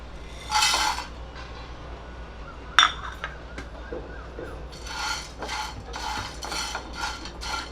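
Tea masala spices (black pepper, cloves, cinnamon, nutmeg and green cardamom) dry roasted in a pan, with a few separate bursts of close scraping and a sharp metallic clink as a spoon stirs them, and quiet gaps between.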